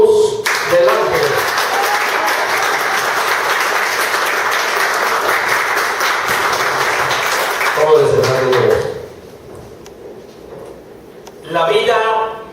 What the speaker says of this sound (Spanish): Fuertes aplausos para el doctor honoris causa Manuel Cruz del Ángel